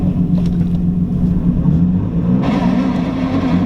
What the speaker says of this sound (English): As you guys just heard, I think my throwout bearing is getting a little funky.